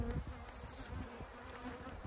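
Honey bees swarm and buzz around an open beehive on goldenrod, a dense, steady drone filling the air up close for a couple of seconds with no talking.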